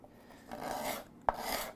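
A rasping file scrapes across a wooden song stick instrument in a short steady stroke, with one sharp click near the end, close up and with no talking.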